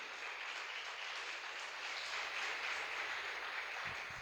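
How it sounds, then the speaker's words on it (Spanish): Church congregation applauding together, a steady broadband clatter of clapping hands that fills the space evenly throughout, moderately distant with no talk over it. "Dele fuerte el aplauso al Señor."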